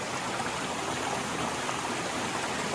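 Cold mountain stream water flows over gravel below a snowfield, a steady, close, even rushing hiss with no voices.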